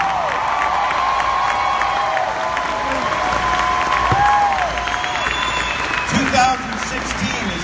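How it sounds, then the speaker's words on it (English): A large homecoming crowd claps and cheers under amplified music with sustained tones, voices and applause mixed together at a steady high level. "Clap your hands like you believe that that's what happens"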